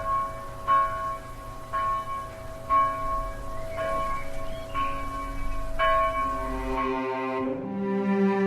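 A church bell tolls noon in the visual novel game House in Fata Morgana, with steady, evenly spaced strikes that ring over a sustained musical drone and then fade out.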